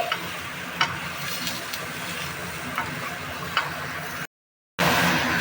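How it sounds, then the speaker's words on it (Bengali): A mixed vegetable curry with spices is stirred in a pan, giving a steady close sizzle with occasional soft spoon taps, broken by a brief cut to silence before the sizzle resumes. "দিয়ে আমি আবারও একটু নাড়াচাড়া করে দিচ্ছি।"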